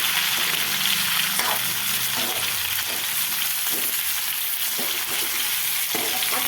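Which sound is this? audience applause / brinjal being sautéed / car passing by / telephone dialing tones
brinjal being sautéed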